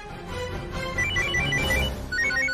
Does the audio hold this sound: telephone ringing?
yes